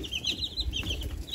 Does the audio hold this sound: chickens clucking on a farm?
yes